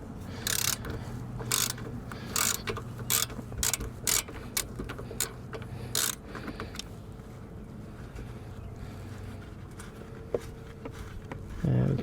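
A ratchet clicks in quick repeated bursts while loosening a stubborn screw on a Hyundai Palisade during oil filter housing work, then the clicking stops and quiet mechanical handling follows.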